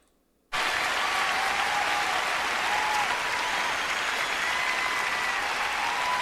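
Concert crowd at a performance bursting into applause after a brief silence, dense sustained clapping from a large arena audience, loud and unbroken.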